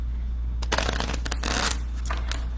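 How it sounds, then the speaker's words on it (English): A small travel deck of playing cards being shuffled, close and crisp riffling bursts that start and stop over a couple of seconds, with a steady low hum behind and no talk. "little tiny travel deck doesn't want to shuffle"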